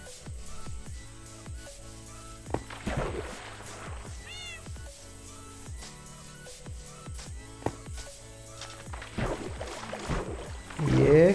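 A Minecraft cat meows a few times amid busy game sounds, footsteps and clicks, with a sharper cry near the end.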